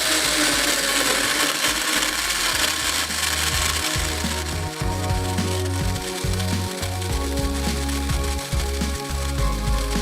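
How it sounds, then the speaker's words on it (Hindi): A blender making a green smoothie whirs loudly and steadily, its motor pitch wavering with brief dips as the contents churn, running continuously throughout. "सारी चीज़ें आएंगी ब्लेंडर में और आपने चलाना है इसको 1 मिनट तक"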